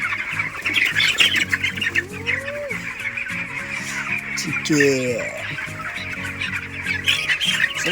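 Poultry on sand litter squawk and cluck repeatedly throughout, with several loud overlapping calls near the middle over a steady background hum of a poultry shed.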